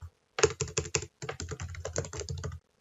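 Quick, close clatter of keys as a caption is typed on a computer keyboard, a fast burst of distinct taps, a short pause, then a steadier run of keystrokes.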